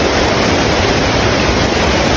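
Tagbibinta Falls in Maragusan gives a loud, continuous roar of falling water, broadband and unbroken, heard close up.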